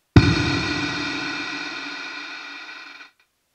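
A single struck bass note rings through a Boss RV-5 reverb pedal in modulate mode, a sharp attack swelling into a shimmering, wavering wash that sustains for about three seconds before cutting off cleanly.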